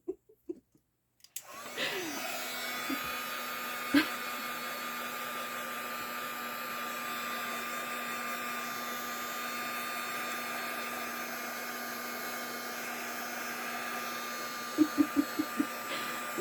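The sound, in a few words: drying a craft project with a heat dryer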